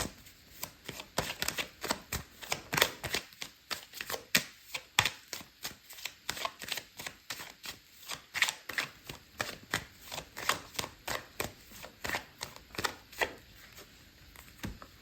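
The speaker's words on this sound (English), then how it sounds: "I'm going to pull out another card for you" Tarot cards shuffled and drawn by hand, a steady run of crisp riffling flicks and snaps, close and fairly loud, repeating quickly with no voices over it.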